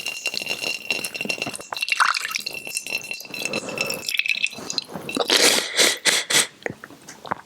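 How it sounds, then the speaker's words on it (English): Water dripping and splashing out of the nose during a yogic nasal cleansing exercise, irregular wet spatters and trickles close by, with faint breathy snorts between bursts. "there's a lot of water and stuff coming out"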